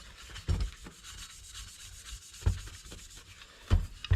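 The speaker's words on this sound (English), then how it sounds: "I was going to take a scouring pad, scuff them up just a little bit." Clutch parts, already cleaned with brake cleaner, being scuffed with a scouring pad: a close, steady abrasive rubbing with a few heavier strokes standing out, and no talking.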